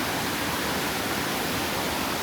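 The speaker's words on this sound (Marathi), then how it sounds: "नदी आहे की ओढा आहे कसला आहे बघ." A stream or small river flows steadily in a lush countryside, a constant broadband rush of water with no voices over it.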